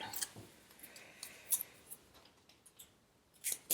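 Scissors cutting, a series of crisp, close snips at irregular intervals over a quiet background.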